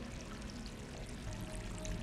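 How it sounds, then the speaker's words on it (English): Water pours into a bucket in the video game Stray, a steady splashing stream that runs unbroken for about two seconds. "Fill the bucket with water."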